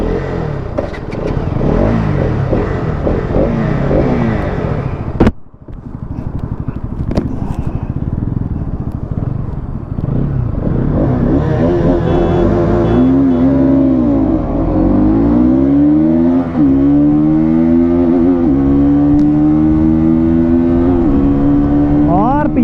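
Bajaj Pulsar NS200 and RS200 BS6 motorcycles in a 2024 drag race, engines loud and close, climbing steadily in pitch through repeated gear changes, with a sustained high-revving whine building toward the end.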